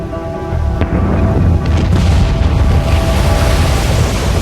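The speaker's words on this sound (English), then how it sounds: "A series of booms could be heard hundreds of miles away." Booming explosions of the Krakatoa volcano eruption form a loud, continuous roar of rumbling blasts and crackling debris, with sharp cracks standing out in the dense, steady wall of sound.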